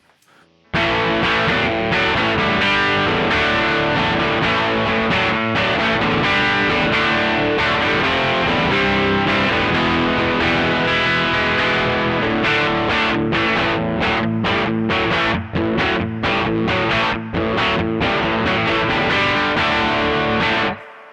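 Loud, heavily distorted Eastman SB59V electric guitar on its bridge humbucker, a thick Les Paul-style tone, sustained chords giving way to choppy, rhythmic stabs toward the end; no voices.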